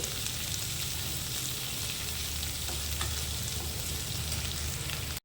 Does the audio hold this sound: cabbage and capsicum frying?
yes